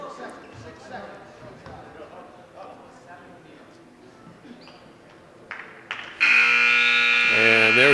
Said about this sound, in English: And there's the buzzer for the end of the match.